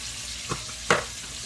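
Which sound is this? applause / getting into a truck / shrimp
shrimp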